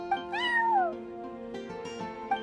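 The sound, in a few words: cat meowing in Genshin Impact video game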